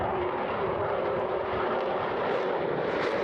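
A Eurofighter Typhoon jet roars steadily at the Eastbourne Airshow 2023, a loud, continuous broadband engine rush that holds constant throughout as the aircraft repositions during a display routine.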